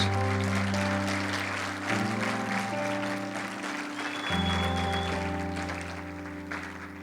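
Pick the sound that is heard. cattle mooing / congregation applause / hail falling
congregation applause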